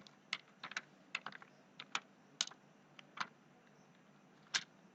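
Faint, scattered clicks of keys on a computer keyboard while entering an Excel TEXT formula, including an Enter press, with sparse irregular taps in a quiet room and no talk.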